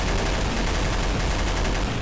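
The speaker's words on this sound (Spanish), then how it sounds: "Estoy disparando en la torre, tengo un sniper, puedo ser más preciso." Rapid video game gunfire in Garry's Mod Flood, a dense continuous fusillade of overlapping shots at close range filling the whole moment.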